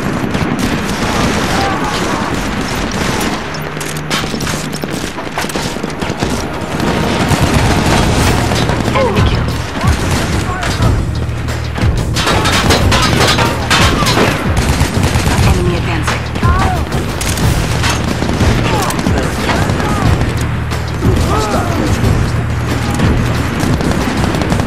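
Heavy gunfire in a SOCOM 4 U.S. Navy SEALs battle, with dense automatic bursts, booming impacts and clattering mechanisms rolling continuously and loudly, while soldiers shout commands over the din.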